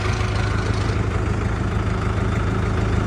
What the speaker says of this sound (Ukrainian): йдемо, прокатаємося на джинмі 504, подивимося, як вона переключається, як працює реверс.